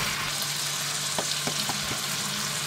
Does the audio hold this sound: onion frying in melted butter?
yes